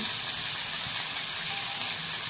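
Onion and garlic frying in hot oil with cumin and a pinch of mustard seeds, a continuous loud hissing sizzle heard close and alone.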